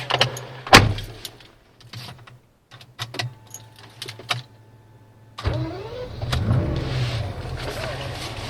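A Mercedes 190E with a swapped-in V12 engine starts up with a short burst of engine noise, then settles into a steady running drone as it drives, with brief clicks and knocks earlier.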